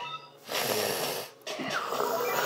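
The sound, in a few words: sniffing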